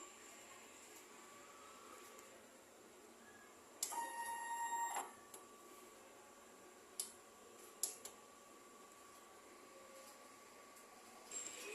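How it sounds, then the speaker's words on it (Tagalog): A DTF printer's head area at work, with a faint steady mechanical hum, a louder burst of whirring carriage motion for about a second, then a few sharp isolated clicks and ticks. "Ito po ang aking printer head area."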